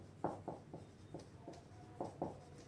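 Chalk or marker writing on a classroom board during a maths lesson: short, separate scratchy strokes in an uneven rhythm, faint and close, with no voices.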